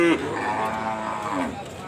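Cattle at the Kragan livestock market, among them a breeding cow and Limousin-type stock: a drawn-out moo rises close by, with people talking in the background.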